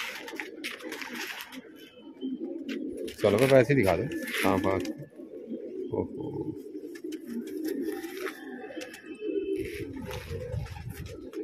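Domestic pigeons coo in low, throaty bursts close by, the loudest calls clustered near the middle, while people talk and comment over the birds throughout.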